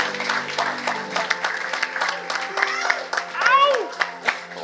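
Church congregation clapping in praise of God, a steady dense patter of applause mixed with voices and singing-like tones over a low sustained hum.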